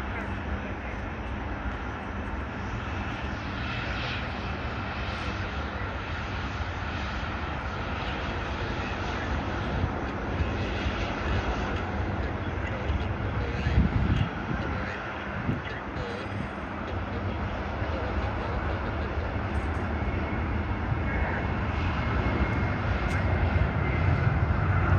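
Jet airliners at Sydney Airport taxiing and departing runway 34L, including an Emirates A380 and a Batik Boeing 737-800: a continuous, loud engine roar that swells gradually, mixed with wind buffeting on the microphone.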